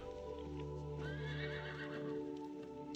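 Horses neigh in green farm country, a near whinny rising over a steady background hum, with faint hoof clopping and soft rustling around it, no voices.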